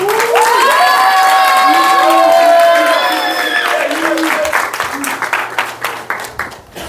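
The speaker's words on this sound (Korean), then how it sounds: "예, 박수 주십시오." Church congregation at a Wednesday service cheering and clapping, with shouted voices rising at the start and then breaking into scattered claps that thin out toward the end.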